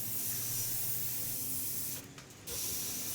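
An airbrush sprays transparent black paint onto a car wreck artwork as a close, steady hiss that cuts out briefly near the end and then resumes.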